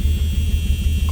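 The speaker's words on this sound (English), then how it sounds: "And even with the straight 6, it sounds amazing." A 1974 Mercury Comet with a straight-six engine idles with a steady, loud low rumble and a slightly uneven pulsing beat over a short stretch.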